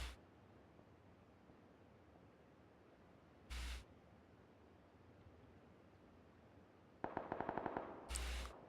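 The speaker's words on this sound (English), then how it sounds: "So much shooting." Gunfire in the video game PUBG, a few distant-sounding single shots followed by a quick burst of automatic fire, fairly faint with no talk.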